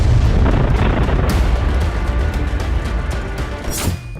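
Explosions from Israeli bombardment of a densely populated area of Gaza roll out as a dense, rumbling barrage of booms, with a sharp burst near the end.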